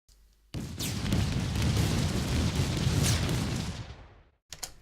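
Redesigned Doom missiles launching and exploding in a game, heard as a sustained dense rumbling blast that swells for about four seconds, then fades, followed by a short sharp burst at the end.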